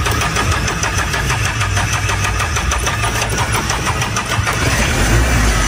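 A battered old pickup truck engine cranks and catches, then runs loud and close with a rough, knocking, uneven idle and rattling throughout, with no talking.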